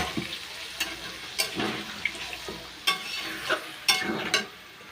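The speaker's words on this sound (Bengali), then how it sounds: "আলুটা দেওয়ার পরে আমি মাংসটা ভালোভাবে কষিয়ে নেব আলুটা দিয়েও।" Meat and potatoes are stir-fried together in a pot, with scraping stirs and wet clatter sounding at intervals over a soft sizzle, close up with no voices.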